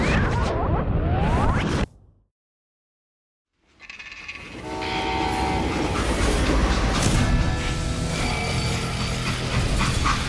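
A moving train from the video game Call of Juarez: Gunslinger, loud and close, with a rumbling clatter and a drawn-out horn-like tone, broken by a couple of seconds of silence before the roar resumes.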